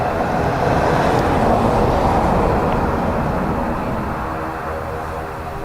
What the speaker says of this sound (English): Ryanair from Amsterdam there